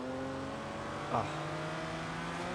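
A classic Lamborghini engine drones with a steady harmonic tone in Forza Horizon 3, holding a constant mid-level hum with a brief swell partway through, fairly faint in the mix.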